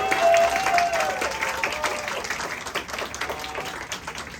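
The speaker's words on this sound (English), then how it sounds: "Can I ask for applause," An audience applauds after a performance at a poetry slam grand finale, the clapping loud at first and thinning gradually, with a faint sustained tone and a few voices underneath.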